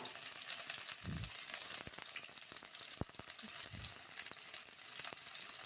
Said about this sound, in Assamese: এতিয়া কেৰাহীত তেল গৰম কৰি লৈ এনেদৰে মই পিঁয়াজখিনি দি দিছোঁ।